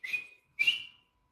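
A whistle is blown to end a match: two sharp, shrill blasts, the first about a third of a second long and the second slightly longer, close and clear with no other sound around them.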